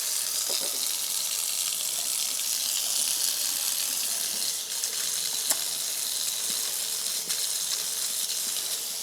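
A kitchen tap runs steadily while hands are washed during meatloaf preparation, a continuous hissing splash of water with faint knocks, and no voices.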